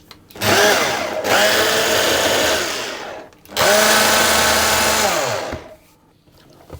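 A food processor whirs in two short, loud pulses, each a couple of seconds long with a brief pause between, blending ingredients for an apple tarte tatin shortcake dough.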